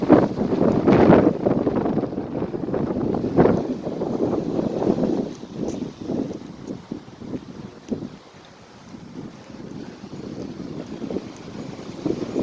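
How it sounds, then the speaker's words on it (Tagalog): Strong wind buffets the microphone in loud, rumbling gusts that rise and fall without pause. "Lakas ng hangin."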